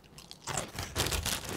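Dry sweet cinnamon corn cereal, syrup-coated and made without artificial flavoring, crunched and chewed up close in several loud, dense bursts with a short quiet gap at the start.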